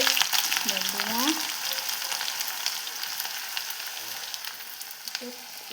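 Onion frying in cooking oil for an okra dish, a steady broadband sizzle running throughout at moderate level, with a brief tonal clink near the start and no talk.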